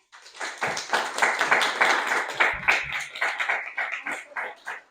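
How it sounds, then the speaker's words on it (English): An audience at a maritime center speaker series on the Erie Canal gives the panel a round of applause. Many hands clap close by, building quickly to a sustained patter, then thinning toward the end. "Let's have a round of applause for the whole panel."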